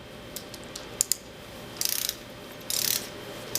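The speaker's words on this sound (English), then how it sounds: "increasing the torque on the bolts" A torque wrench tightening the bolts of a drum port cover repair kit, heard as a few isolated clicks followed by two short bursts of rapid close ratcheting, with quiet pauses between.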